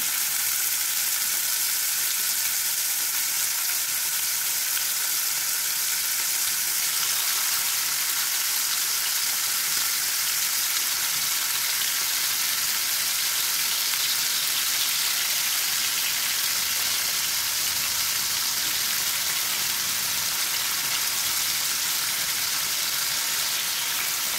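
Pork steak frying in oil over low heat in a pan, a dense continuous sizzle with fine crackling splatter, steady and close throughout.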